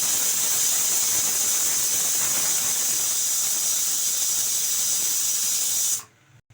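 A pressure cooker with turmeric powder added gives a loud, steady hissing whistle for about six seconds, then cuts off abruptly into near silence.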